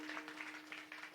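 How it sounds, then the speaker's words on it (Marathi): An audience claps through a live kirtan at a village week-long festival, a steady dense wash of hand claps at moderate distance with a faint sustained tone underneath. "टाळ्या वाजवा पुन्हा एकदा"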